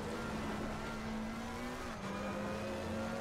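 A McLaren 720 GT3 in Assetto Corsa accelerates at Zandvoort, its engine droning steadily with a rising harmonic whine, close and continuous throughout with a brief dip near the end.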